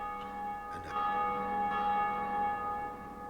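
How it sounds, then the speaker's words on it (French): Church bells ring in the Dark Souls Remastered video game, a steady sustained bell tone with layered overtones resonating continuously with no speech. "on entend de plus en plus les cloches"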